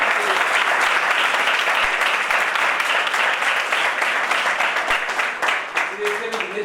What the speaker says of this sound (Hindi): तो उसके लिए बहुत बहुत बहुत सारी तालियां बजनी।